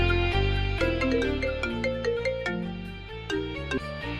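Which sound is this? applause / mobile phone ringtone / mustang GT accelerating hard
mobile phone ringtone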